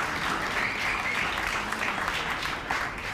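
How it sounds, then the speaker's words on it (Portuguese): A concert audience applauds a choir at The Cavern, giving a dense, continuous burst of clapping that stays loud and close for the whole stretch with no talking over it. "Un aplauso."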